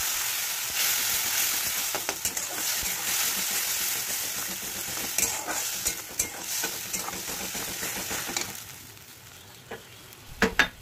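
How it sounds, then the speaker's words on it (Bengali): Tomato paste sizzles and fries in a pan with grated ginger, stirred steadily with scraping clicks of a spoon, a continuous close hiss that thins toward the end. "টমেটো পেস্টটা দিয়ে ভালো করে নাড়তে হবে"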